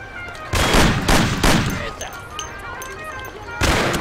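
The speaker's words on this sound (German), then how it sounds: "Hilfe, da wird geschossen." Gunfire in the video game Mafia: a volley of loud, sharp shots in quick bursts, then a lull and one more burst near the end.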